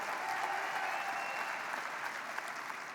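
An audience at the 2016 Rock & Roll Hall of Fame ceremony applauds three radio DJs, a broad, steady wash of clapping heard from a distance, fairly faint and continuous throughout.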